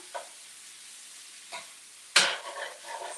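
Keto taco filling stirred in a pan on a gas burner set to low heat, a quiet background sizzle broken by a few scraping stirs, the last one loudest and longest.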